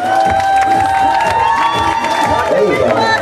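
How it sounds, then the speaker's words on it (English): Guests at a sweet sixteen party cheer and applaud loudly, with whoops and shouts mixed into a steady roar of clapping. The sound is close and full throughout. "A big round of applause."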